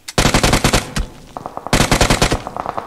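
UMP submachine gun firing in PUBG Mobile, two rapid bursts of loud, closely spaced shots separated by a short pause, alone without talk.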